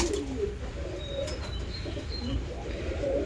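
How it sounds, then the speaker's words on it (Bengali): A pigeon kept at home coos softly a few times, fairly faint over a steady low background hum. "এটা একটা মালবাহী পায়রা।"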